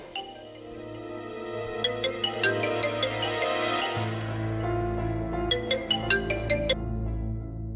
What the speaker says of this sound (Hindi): रानी का फोन